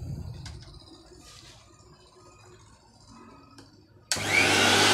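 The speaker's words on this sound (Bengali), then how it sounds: "এখন আমরা ডাইরেক্ট পাওয়ার লাগিয়ে দেখব যে আমাদের এই মেশিন চলে কেমন" A repaired blender motor switches on at direct power with no series connection, bursting into a loud, steady high-pitched whir near the end after quiet handling noises.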